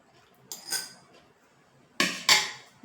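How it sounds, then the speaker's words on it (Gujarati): A spoon stirring gulkand into cold milk, giving a few sharp clinks against the glass, one isolated tap followed by a quick pair of knocks, close and fairly quiet against a near-silent background. "ગુલકંદ એડ કરી અને બરાબર મિક્સ કરી લેશું."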